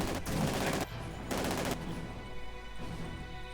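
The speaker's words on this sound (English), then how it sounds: "commies running straight into the MG42" MG42 machine gun fire in Company of Heroes 2, with dense rapid bursts of automatic gunfire in a sustained battle din, cutting in and out in loud stretches.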